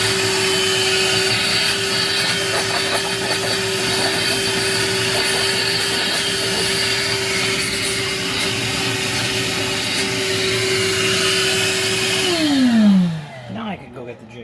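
Grinder cutter slicing through a countertop to fit an electric cooktop, a loud steady high whine with gritty cutting noise that holds for about twelve seconds, then winds down as the tool stops.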